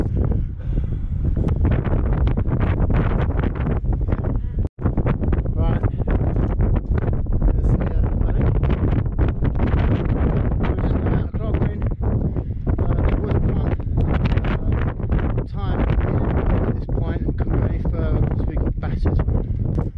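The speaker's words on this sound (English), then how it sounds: "There was a bit of gust of wind just then" Strong wind on Snowdon's Llanberis path in November buffets the microphone in loud, roaring gusts that continue without a break for the whole stretch.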